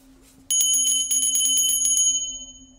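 A small old bell from a flea market rings in a quick run of bright, tinkling strikes, up close and loud. The ringing fades over the last second with no one talking.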